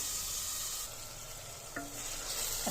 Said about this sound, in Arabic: ريحه الثوم طلعت وشوحتها دبلتها